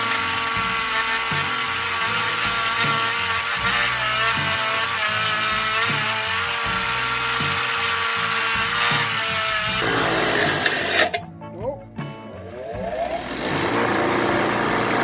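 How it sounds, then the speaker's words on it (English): A bench grinder cleaning up an axle for a budget Baja build: a loud, steady motor whine with a harsh grinding rasp for about eleven seconds, then a drop as the metal comes away and the wheel spins on. "I think I'm going to take this axle to over my bench grinder over here and just clean these up."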